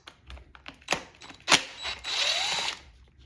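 A power driver fitted with a T25 Torx bit spins out a screw on a 2007-2013 Toyota Tundra secondary air injection pump: short clicks, then a brief whirring buzz, close and fairly quiet.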